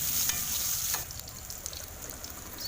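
Soybean chunks fry in mustard oil in a wok with five-spice seeds and bay leaves. A dense, close sizzle is broken by a few sharp scraping stirs.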